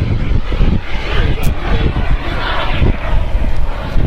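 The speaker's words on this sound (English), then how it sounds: "he is flying with a miniature turbine engine" A model jet with a miniature turbine engine flies overhead. Its loud, steady broadband roar fills the whole clip, with a brief high whine partway through.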